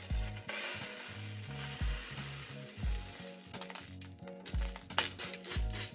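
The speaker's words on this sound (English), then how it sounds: "Then I guess we put our gravel" Aquarium gravel pours and rattles into a hermit crab enclosure in repeated bursts of crunchy, clattering scraping, close and fairly loud, with brief pauses between pours.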